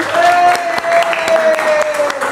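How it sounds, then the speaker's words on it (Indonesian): A classroom group claps together in a short burst of applause, with a teacher's voice calling out over the clapping. "Tepuk tangan dulu dong."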